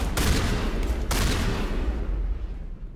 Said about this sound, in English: I'm shooting everyone here